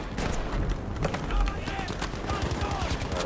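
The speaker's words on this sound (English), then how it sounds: "There's so much bullets flying from there." Gunfire in the Battlefield V shooter game, dense rapid bursts of automatic weapons crackling continuously across the scene, with a couple of heavier thumps mixed in.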